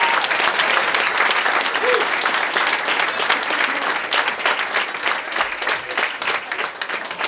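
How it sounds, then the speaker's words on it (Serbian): Loud, dense audience applause fills a stand-up comedy club in Belgrade as a comedian from Macedonia is welcomed to the stage, steady clapping sustained throughout with no pauses. "dajte vam veliki aplauz za njega"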